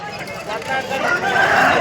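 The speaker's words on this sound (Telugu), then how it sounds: "పిల్లల కోళ్ళ సంతలో అయితే గిన్ని కోళ్ళు టర్కీ కోళ్ళు బొంత కోళ్ళు అన్నీ వచ్చినాయి" Chickens crow and cluck at the Pileru Sunday poultry market, where chicks, guinea fowl and turkeys are sold, in a brief, loud burst over crowd chatter and people talking.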